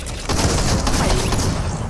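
Dense Fortnite gunfire crackles loudly in a sustained burst during a squad match, starting abruptly after a brief quieter moment and continuing without pause.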